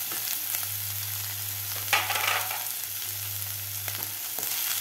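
Cabbage, carrot, capsicum and spring onion sauté over high gas heat for cabbage soup, giving a steady soft sizzle with a low hum beneath and occasional scraping stirs.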